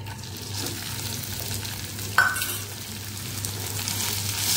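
Flattened rice (aval) frying in ghee, a soft steady sizzle with a brief louder scrape of stirring partway through, otherwise even and close.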